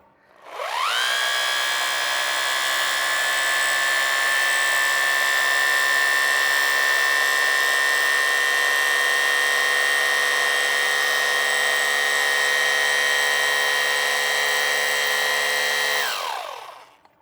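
A drill fitted with a hollow pipe adapter bores an underground power line path through soil, running as a steady, loud motor whine for about fifteen seconds with a rising start and a spin-down at the end, no talk over it.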